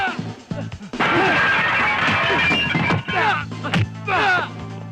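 A second glass window is smashed in a Filipino action film scene, a loud crash with scattering glass mixed among several excited shouting voices.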